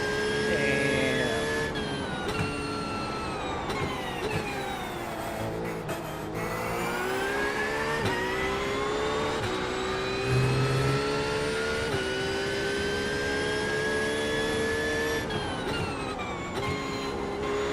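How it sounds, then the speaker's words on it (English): A Porsche race car does donuts in front of the pit at the Nürburgring 24 hours, its engine droning loud and continuous with revs rising and falling in long sweeps and a steady roar throughout. "P1 is doing donuts in front of the pit because he finished."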